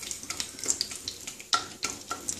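Two bay leaves hit hot oil in a pan and fry with a close, crackly sizzle in short bursts and pops over a couple of seconds.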